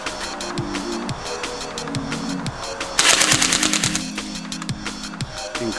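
An M805 battery-powered electric airsoft BB gun fires in rapid full-auto bursts, with loud, close, evenly spaced sharp cracks and a mechanical whir between the strings of shots.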